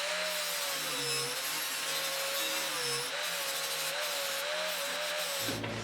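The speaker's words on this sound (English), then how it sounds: "So it's time to grind it." Power grinding of a fresh weld on a steel door panel of a 1972 Triumph GT6, a steady high abrasive whine with a wavering pitch that holds close and loud for several seconds, then cuts off near the end.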